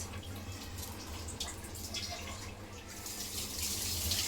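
Water running and splashing into a pot or bowl while hilsa fish is prepared in a home kitchen, a steady flowing pour that grows a little louder toward the end.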